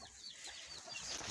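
Chickens cluck faintly in a village yard, a quiet, short burst of soft clucks and fowl chatter heard from some distance amid low background noise.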